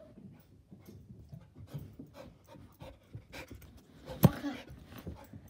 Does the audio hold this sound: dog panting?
yes